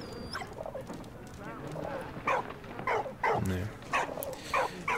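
A dog barking in the video game Valiant Hearts, several short barks and yips in a loose run over background game sounds, with someone talking in the same span.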